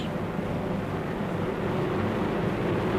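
Four 2,200-horsepower aircraft engines turning 16.5-foot Hamilton propellers make a steady, dense, loud drone with a faint tonal hum, unbroken and without voices.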